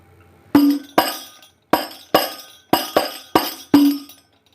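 Eight crisp hand strikes on a Banjari frame drum in the half lanangan rhythm, uneven and syncopated, a few with a short ringing tone, clear and close with no talking.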